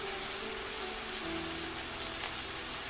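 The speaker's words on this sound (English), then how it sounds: "Tonight's rain is their cold welcome." Rain falls at night over the jungle around the Maya city of Tikal, a steady, even hiss of drops on foliage and surfaces that continues unbroken throughout, with no voices.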